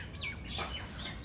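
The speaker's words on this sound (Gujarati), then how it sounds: "મોર પણ આવી ગયો છે" A peacock calls in a village setting, heard as a few faint, high, chirping cries spread across a second over a soft, steady background, with no speech.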